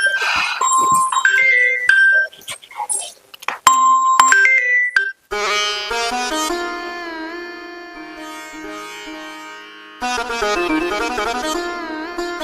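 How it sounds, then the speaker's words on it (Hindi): A phone rings in a Haryanvi comedy drama, playing a loud, repeated electronic melodic ringtone close by, with short gaps between the bursts. "वो फोन बज जाए, किसका आ गया देखो"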